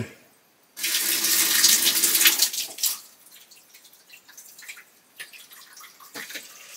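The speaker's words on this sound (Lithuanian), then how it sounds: "jeigu atsuku aš vandenį" A tap on a home water supply system is turned on, releasing a loud rushing gush for about two seconds that then falls away to scattered soft drips and trickles.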